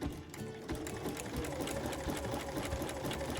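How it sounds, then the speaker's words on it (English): Sewing machine stitching an applique zigzag on fabric, a rapid continuous mechanical whirr and needle rattle, close and steady throughout with no talking. "drop my needle and sew on"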